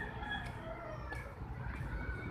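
Roosters crowing in a small park in Navotas, several drawn-out calls layered over a busy low outdoor rumble, moderately loud.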